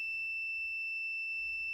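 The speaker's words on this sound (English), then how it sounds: "the control algorithm activates the alarm and sends a warning message on the Telegram bot of the users" A people-counting security system's alarm sounds as a steady, continuous high-pitched electronic tone that holds unchanged throughout, loud and close, with no talking.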